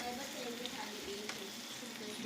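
Food frying in a pot for the national dish of St. Kitts and Nevis, a steady, soft sizzle with faint stirring scrapes and clicks, close by, with some quiet talk.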